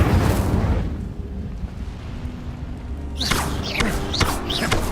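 Incendio fire spell cast in the game Hogwarts Legacy, a rumbling burst of flame at the start that fades, followed by bright chirping spell effects near the end.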